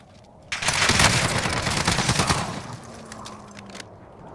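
A grenade goes off in a multiplayer shooter video game, a loud sustained blast and rattling burst of gunfire lasting a couple of seconds before fading into softer background game noise, with no talk.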